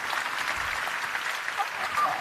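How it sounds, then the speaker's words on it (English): Audience applause at the 2017 Sunrise Conference by Blackbird, a steady, dense wash of clapping that holds even throughout. "Round of applause for Mike."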